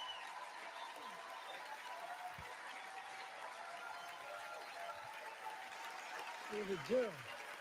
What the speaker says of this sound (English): Nobody listened. They just kept clapping.